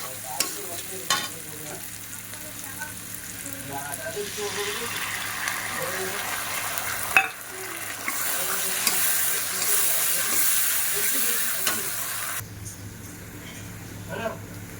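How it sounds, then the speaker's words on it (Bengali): A Bengali fish curry gravy with mustard and poppy seed paste, meant for pabda fish, comes to a boil in a pan, giving a loud, busy bubbling hiss with stirring scrapes and a few sharp knocks. "ঝোলটা ফুটে উঠেছে এবার মাছগুলো দিয়ে দিই"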